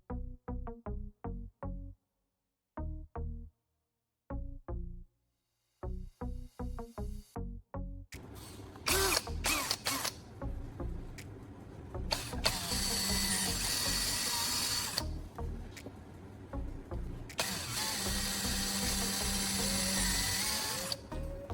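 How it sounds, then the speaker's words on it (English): Short mechanical clicks and bursts come first, then a loud, continuous power drill whines through PVC pipe, drilling two holes, stopping and restarting a few times. "I'm measuring it to fit our design and then drilling 2 holes through it."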